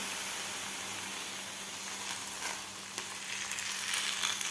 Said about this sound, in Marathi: आता आपण हे बनवून घेतलेलं थालीपीठ या तव्यावर घालणार आहोत